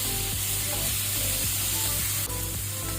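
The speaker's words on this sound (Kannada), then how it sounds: "ಇದನ್ನು ಸಹ ನಾವು ಒಳ್ಳೆ ರೀತಿ ಫ್ರೈ ಆಗಬೇಕು, ಟೊಮೆಟೊ ಸಾಫ್ಟ್ ಆಗಬೇಕು." Tomatoes fry after onions in a pan for a cauliflower, pea and paneer curry, giving a loud, continuous close sizzle with no speech.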